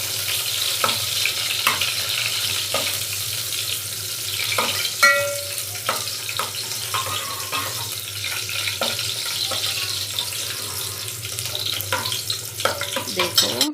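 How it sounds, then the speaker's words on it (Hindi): Onions browning in a pan for tahari give a steady frying hiss with stirring scrapes and a few clinks throughout, with no talk. "थोड़ा प्याज को ब्राउन कर लेना"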